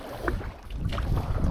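A canoe paddled across a calm Algonquin lake, with soft paddle strokes and water swishes near the hull under steady wind rumble against the microphone.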